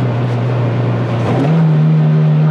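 A Dongfeng Fengon 500 engine drone holds steady, then blips sharply upward during a rev-matched downshift from fifth to fourth gear and settles at a higher, louder pitch, heard close up inside the car.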